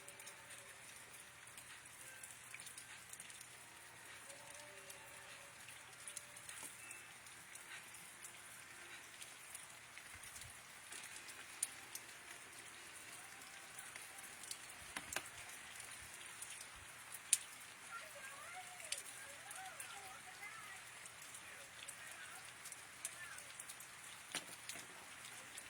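Autumn rain falls outdoors in a soft, steady patter, with occasional sharper drops landing on nearby surfaces, faint and continuous.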